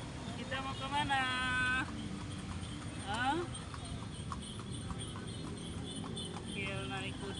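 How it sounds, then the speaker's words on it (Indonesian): A carriage horse clops along on a ride around a town square, its hoofbeats steady and close under traffic noise, while someone talks and a voice chimes in. "Kiel naik kuda."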